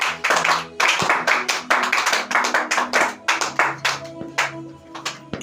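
A church congregation claps in praise of the Lord, with bursts of loud, fairly rhythmic hand claps filling the space and continuing steadily for several seconds.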